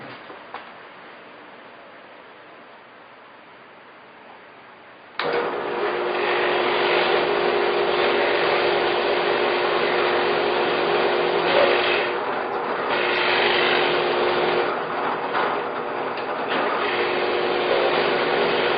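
A handheld router cuts through wood for a drawing desk project, starting abruptly after a quieter stretch and then running as a loud, steady whine with a ragged cutting texture for the rest of the clip.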